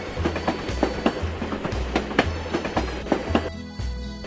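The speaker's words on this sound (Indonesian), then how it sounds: "Kereta api akan segera berangkat." A cartoon train departing in a children's transport video game, rhythmic clickety-clack of wheels over rail joints repeating steadily and fairly close, with a brief change in tone near the end.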